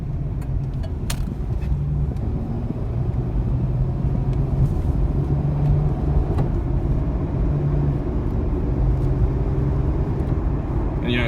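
A 2000 Chevy Camaro driving on the street, a steady low engine and road rumble heard from inside, continuous and fairly loud throughout.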